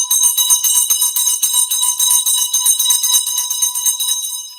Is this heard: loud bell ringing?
yes